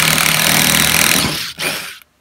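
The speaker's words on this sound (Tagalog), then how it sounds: "sa bandang gitna nung pagbutas ng hole saw, may ibang tunog na, meron siyang parang hammer, dun na gumagana yung kanyang impact drill" Cordless impact drill driving a small hole saw, a loud close rattling hammer-like buzz that holds for about a second and a half, then briefly stutters and stops.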